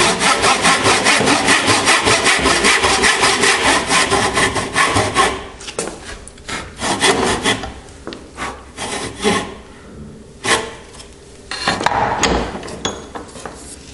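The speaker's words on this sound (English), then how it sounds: "I'm sawing vertical." A hand saw cutting vertically through wood for a mortise and tenon joint, with steady rhythmic rasping strokes that grow uneven and broken up in the second half, close and clear with no talk.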